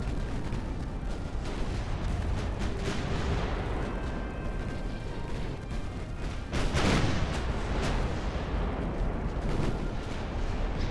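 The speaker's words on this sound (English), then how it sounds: "Pepper him with the small guns too." Naval gunfire from warships' small guns in the video game Ultimate Admiral: Dreadnoughts, 1890-era hulls: a dense, continuous rumble of distant cannon fire rolling throughout, with a heavier burst swelling near the middle.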